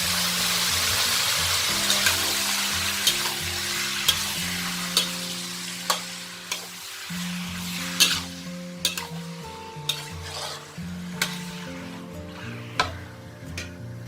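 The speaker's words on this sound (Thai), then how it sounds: "หลังจากน้ำมันเริ่มร้อนแล้วนะคะ ใส่ มันหมู ของเราลงไปเลยค่ะ" Steady sizzling of pork fat frying in hot oil, with occasional clinks of a utensil stirring in the pan at irregular intervals.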